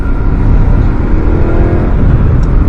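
KTM 1190 Adventure motorcycle cruising steadily at 100 km/h, a loud, continuous engine drone mixed with heavy wind rush, steady throughout with no break.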